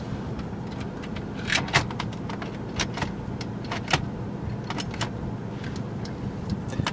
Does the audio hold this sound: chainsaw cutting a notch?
no